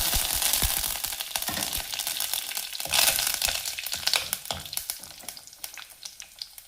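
Mustard seeds, fenugreek, dried red chillies and curry leaves frying in hot oil for a Kerala fish curry, a loud continuous sizzle dense with sharp crackles and pops throughout, close up and with no talking.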